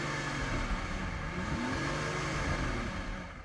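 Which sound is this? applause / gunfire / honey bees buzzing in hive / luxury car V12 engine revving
luxury car V12 engine revving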